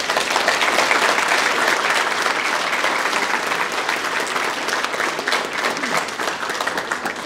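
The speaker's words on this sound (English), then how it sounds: "let's give them a pre-round of applause" A high school audience at a spring pops concert applauds graduating seniors, loud and sustained clapping filling the room at an even level throughout.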